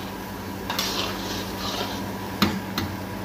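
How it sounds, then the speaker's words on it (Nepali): A boiling masala curry with onion and tomato is stirred in a pan, giving a steady bubbling simmer with a few sharp scrapes and clinks of the spoon against the metal. "बेला बेला यसलाई चलाउने, नत्र मुनि टालिने टालिने सम्भावना हुन्छ"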